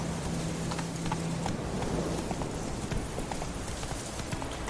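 Roach, a horse in The Witcher 3, runs with a fast, steady clip-clop of hooves at moderate distance, the beat continuing over a constant ambient bed with no talk.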